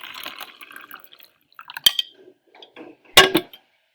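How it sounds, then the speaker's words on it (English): Hot water poured from a prepared container into a styrofoam cup during a school crystallization lab; brief splashy trickles and a few sharp clinks close by, with no talk. "Then I'm going to take my hot water that I prepared. I'm going to place this into my styrofoam cup."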